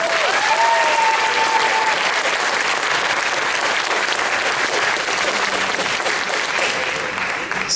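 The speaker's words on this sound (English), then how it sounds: "Give them another round of applause." A school auditorium audience gives sustained, dense applause for the percussion soloists of a high school wind ensemble, loud and even throughout before easing slightly at the very end.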